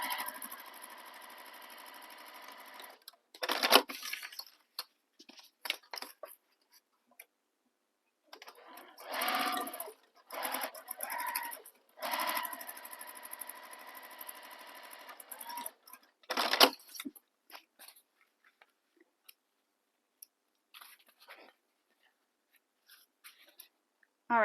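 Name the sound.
sewing machine sewing bag side edges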